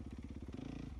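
A dirt bike at a TKO morning race, heard as a short burst of rapid, pulsing engine putter with a rough clattering edge, close and fairly loud with no one talking.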